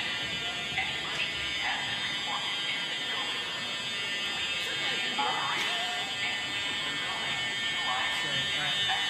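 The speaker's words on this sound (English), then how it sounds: "we're having a fire alarm" A fire alarm buzzes continuously inside a church during a worship service, a loud, steady electronic drone that runs throughout while people talk and move around underneath it.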